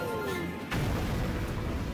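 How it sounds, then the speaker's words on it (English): A deep booming explosion bursts in the video game Super Mario Galaxy after a rising whistle, then a heavy rumble with crackling debris sustains close and loud. "And you leave with an epic explosion."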